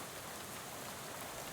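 Steady rain falls in the video game Shadow over Loathing, a continuous soft hiss of drops with no breaks, alone and fairly quiet throughout.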